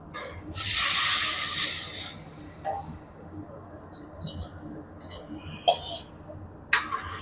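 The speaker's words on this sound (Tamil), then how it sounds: "இப்போ வந்து நம்ம குழம்பு ஊற்றிடலாம்" Fish curry gravy poured into a hot pan of fried onions lets out a sudden loud, close hiss that lasts about a second and then fades to a softer sizzle, with a few short bursts following.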